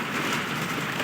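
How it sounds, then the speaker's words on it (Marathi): A hailstorm pours down outdoors, a dense, loud, unbroken roar of rain and ice pelting surfaces with no gaps and no voices. "गाराचा पाऊस चालू झाला."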